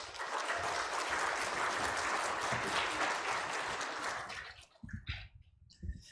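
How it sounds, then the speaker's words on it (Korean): A church congregation at a 30th anniversary service applauds to welcome Pastor Kim Kyung-eun, sustained dense clapping that cuts off abruptly, followed by a few scattered thumps and faint sounds. "큰 박수로 맞이합시다."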